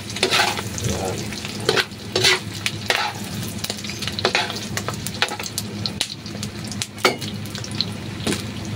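Chicken intestines sizzling and frying in a hot pan for adobong patuyo, a steady crackling hiss broken by several sharp stirring scrapes of a utensil against the pan, close and alone with no voices.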